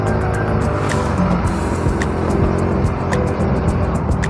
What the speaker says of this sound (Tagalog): Daming sasakyan ngayon, kaya grabing mga traffic ngayon.